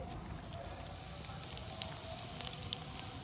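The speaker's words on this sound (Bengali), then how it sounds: "তো আমি জিরে ফোড়ন দিয়ে দিচ্ছি" Cumin seeds sizzling in hot oil for tempering, a soft, steady crackle with a few faint sharp pops, fairly quiet and continuous.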